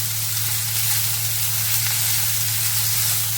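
Chopped vegetables sauté in a hot pan for veg hakka noodles, giving a loud, steady, close sizzle and hiss with a low hum beneath and no voices.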